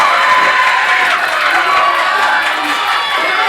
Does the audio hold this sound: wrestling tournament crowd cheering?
yes